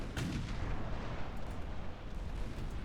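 Naval gunfire from a warship battle in the Ultimate Admiral Dreadnoughts game: a sharp report opens the clip and a dense, rumbling roar of ongoing cannon fire follows, loud and steady with no speech.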